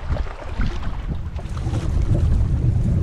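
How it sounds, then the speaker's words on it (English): Steady wind gusting over an open lake on a windy day, a broad continuous rush with low buffeting rumble and water movement around a boat, no talking. "Still windy today."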